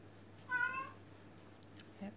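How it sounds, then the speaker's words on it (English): A pet cat meows indoors, wanting to go out past a closed door. A single short, clear meow sounds close by against a quiet room, followed by a faint small noise. "She's meowing because she wants to go out and I closed the door."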